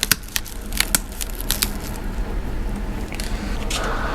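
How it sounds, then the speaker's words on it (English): Sharp crackling snaps and brittle cracks of breaking ice, several in quick succession early on, then a softer continuous crunching texture close up. "you can hear the crunch of breaking ice"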